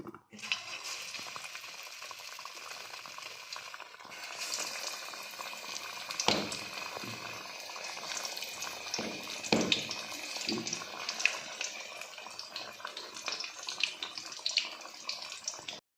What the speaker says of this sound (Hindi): जी भी बस तेल गरम हो गया, अब एक एक करके मैं इसमें फ्राई करूँगी।